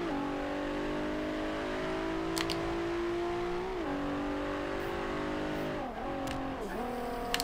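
A 2012 Nissan GT-R Black Edition in the racing game Forza Horizon 2 holds a loud, steady engine drone that climbs gradually, then dips and swoops as it brakes and shifts through corners, with brief tire noise near the end.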